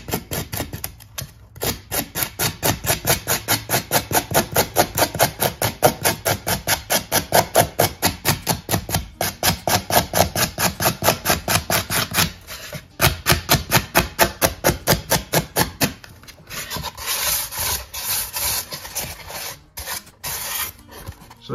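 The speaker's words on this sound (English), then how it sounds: "a lot of the texture is made just by dragging the knife across it" A knife dragged repeatedly across a block of carving foam to texture sculpted rocks, giving a steady run of close, rapid rasping strokes that pause briefly before a final scratchier stretch.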